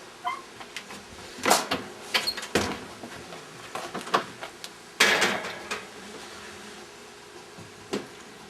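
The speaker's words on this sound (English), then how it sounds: "You wanna open the oven door for me?" A home kitchen oven door opens with clunks and metallic rattles, a few bursts of knocking and sliding close by, no talk over it.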